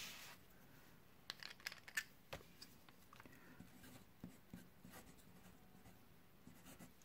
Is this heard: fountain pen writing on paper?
yes